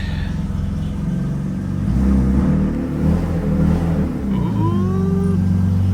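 A car with a welded differential and a wonky, drooping shifter revs its engine while cruising around a property, a loud, close mid-pitched engine rumble that rises and falls between gears.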